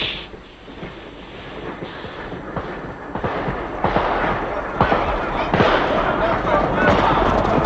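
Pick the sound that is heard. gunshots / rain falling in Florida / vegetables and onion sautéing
gunshots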